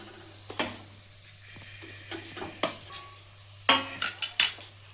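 Spoon clinking and scraping against a metal pan as mashed potato is stirred into a masala filling for samosas, with sharp intermittent taps and knocks, clustered toward the end, over a quiet steady hum.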